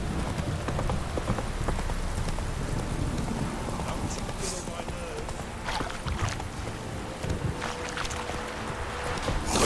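The horse Roach gallops in The Witcher 3, with rhythmic hoofbeats running steadily under a voice and other game sounds.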